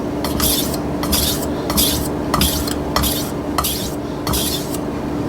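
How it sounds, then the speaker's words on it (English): A kitchen knife drawn across a wet whetstone with a guide clip holding the angle, a regular series of scraping strokes, about eight in quick rhythm, close and clear with no talk. "Okay, knife's getting sharp."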